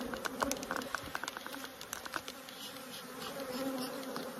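Honeybees buzz around an open hive, a soft continuous hum with individual bees droning close by in brief passes, faint and close-up, no talking.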